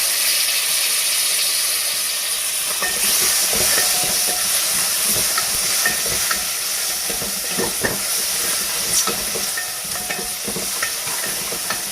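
Tomatoes going into a hot pan for Sindhi pakora curry, with a steady broadband sizzle and hiss throughout, loud and close, plus scattered stirring clinks and scrapes and no talking.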